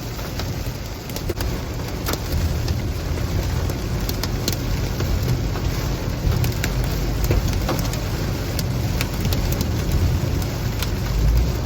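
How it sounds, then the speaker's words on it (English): A severe storm near Sioux Falls, South Dakota, drives rain and growing hail, a loud constant roar of wind and precipitation with sharp scattered impacts of hailstones against a vehicle. "Hail is getting much larger."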